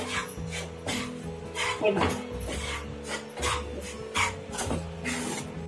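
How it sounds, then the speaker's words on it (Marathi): Wheat flour dry-roasts in a pan with no ghee yet, a continuous soft scraping and stirring rasp with irregular swells, close and fairly quiet, and a few brief spoken words. "आधी आपल्याला सुक्कच भाजून घ्यायचं, म्हणजे कसं नंतर तूप टाकायचं।"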